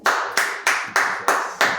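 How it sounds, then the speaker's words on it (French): A few people clapping their hands in unison in a six-beat rhythm of sharp, evenly spaced claps, close and loud with no talking, at a church sermon gathering. "Acclame très fort pour toi-même."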